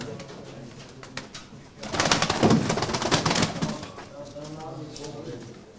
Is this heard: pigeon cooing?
yes